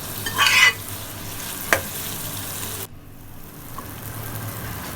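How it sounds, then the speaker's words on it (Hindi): Chana dal is stirred into hot sizzling ghee tadka in a cooking pot, giving a steady loud fry and scrape with a sharp clink of the spoon, then a softer, quieter sizzle continuing alone. "थोड़ी थोड़ी करके हम दाल डालते जाएंगे, मिक्स करते जाएंगे। अब सारी दाल डाल देंगे। अब इनको अच्छी तरह मिलाएंगे।"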